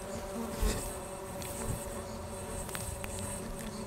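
Wasps buzz steadily around a residential area, a continuous close insect drone with brief louder passes as individual wasps fly near, and no talk.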